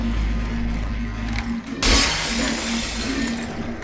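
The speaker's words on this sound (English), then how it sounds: "I don't want to break all the glass" Glass shatters with a sudden bright crash partway through in the video game Portal 2, set over a steady low in-game hum and ambience that continues before and after the break.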